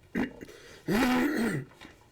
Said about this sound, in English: I may be clearing my throat a little bit this morning